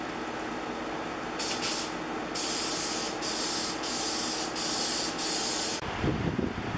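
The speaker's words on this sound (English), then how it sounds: "The next thing I'm going to do is give it several thin coats of lacquer." Thin coats of lacquer go onto a wooden sign from an aerosol can, in several hissing bursts of about a second each, separated by brief pauses, close and steady over a low background hum.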